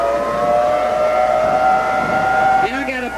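A civil defense siren wails with a steady, loud, sustained tone, then its pitch drops and wavers near the end as someone talks over it.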